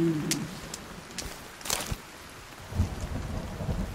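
Rain and thunder in the survival game Sons of the Forest: a steady hiss of rainfall with a few sharp cracks and a low rumble rolling underneath, no talking.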